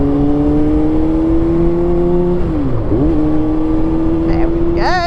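Motorcycle engine on a ride, a loud steady close drone that dips and rises again as the rider rolls the throttle open, with a brief rising whine at the end.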